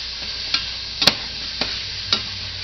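Spaghetti squash scrambled eggs with grocery-store vegetables and garden onion cook in a pan, giving a soft, steady sizzle broken by a few light clicks of a utensil stirring.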